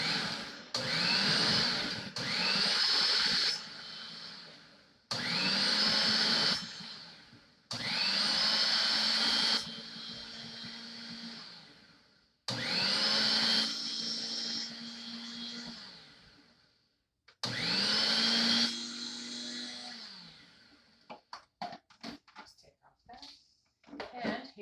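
Food processor blade ricing cauliflower in several loud bursts of a few seconds each, whirring at steady pitch and winding down between pulses, with a few clattering knocks at the end.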